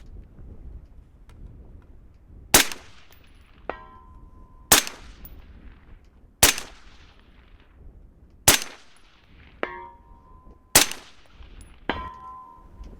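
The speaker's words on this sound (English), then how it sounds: "we'll go prone now, and on the 4 power should just be able to real rapid fire 3 shots on steel" Rifle fired prone at steel targets 300 yards away: five sharp, loud shots spaced about two seconds apart, most followed about a second later by a faint ringing clang of a steel hit.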